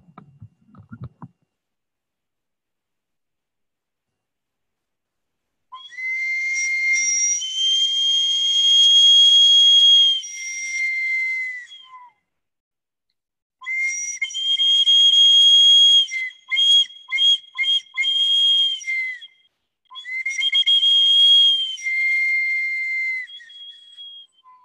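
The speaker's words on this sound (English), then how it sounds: "I'm just going to play a little bit on this bird bone whistle" A bird bone whistle plays shrill, breathy tones in three long phrases, some held and some broken into quick trills, each loud and clear with silent gaps in between and a brief low knock at the start.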